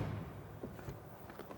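A Mercedes-Benz EQS electric saloon with AMG Line trim has its door shut, a brief, muted thump followed by a couple of soft latch clicks, close and fairly quiet.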